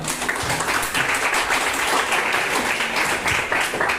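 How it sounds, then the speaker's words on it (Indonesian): Students clap together in a physical education class during a long jump lesson, a steady, fairly close burst of applause lasting a few seconds with faint voices underneath. "Tepuk tangan untuk Bapak."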